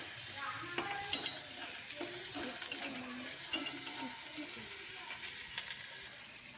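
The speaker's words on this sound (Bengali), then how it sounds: "আর এখানে পেঁয়াজগুলো একটু নরম করে ভেজে নেব" Sliced onions softening in leftover fish-frying oil make a soft, steady sizzle in a pan, with a few light stirring clinks and scrapes and no voices.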